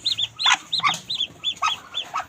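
Hens and four newly hatched chicks make rapid high cheeps and soft clucks in a backyard coop, a busy, repeated chatter of short calls heard nearby.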